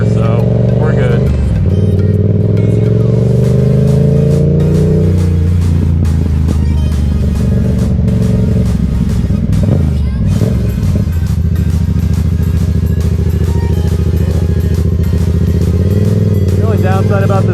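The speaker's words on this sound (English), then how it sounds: "I love how this exhaust sounds. It's just really loud." Loud, close engine roar from the exhaust of a 2020 Yamaha MT-07 stunt build motorcycle, rising and falling through repeated revs and sustained throttle, outdoors beside farm fields with a voice talking over it.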